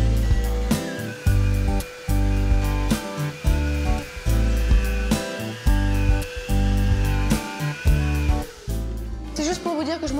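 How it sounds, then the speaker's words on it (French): A giraffe-type long-handled drywall sander works a ceiling before painting, its motor whirring in repeated loud bursts with brief pauses between passes, and a short stretch of talk at the end. "ça s'appelle une girafe. En fait, c'est une ponceuse et elle va nous servir à préparer le plafond avant de le peindre."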